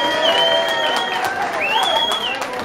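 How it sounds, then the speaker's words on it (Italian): Audience at a festive gathering applauding and cheering a performer, crowd clapping mixed with shouts and whistles while music plays along. "applauso."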